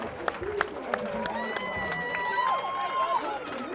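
Boxing crowd at the Governor's Games on its feet after the final bell, a broad sustained roar of cheering and applause with scattered claps, under steady excited commentary.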